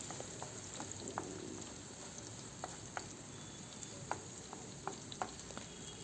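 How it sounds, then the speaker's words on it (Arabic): Onion fries quietly in olive oil in a pan, a low steady sizzle with scattered pops and small stirring clicks, with no talking. "هلأ هون رح أقلي البصلة مع الدبس فليفلة ودبس البندورة ودبس الرمان"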